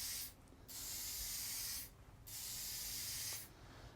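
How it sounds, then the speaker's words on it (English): Mold release sprays from an aerosol can onto mandrels inside a makeshift paint booth, giving three long, steady hissing bursts separated by short pauses, fairly close and otherwise alone. "we're in the paint booth / horse trailer to spray our mold release"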